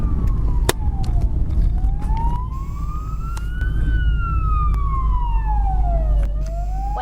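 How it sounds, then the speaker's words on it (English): A wailing ambulance siren rises and falls in long sweeps, loud over a steady low rumble of road and engine noise from a passing car. "Oh, here comes an ambulance."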